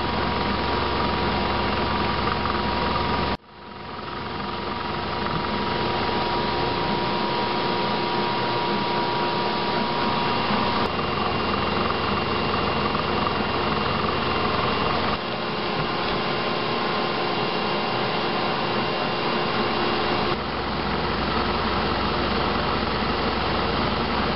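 A bandsaw vise shoe being machined with a 1/4 inch deep pass at 3.7 inches a minute and 216 RPM, giving a steady, loud machine drone and cutting hum that runs throughout, broken only by a brief dip near the start.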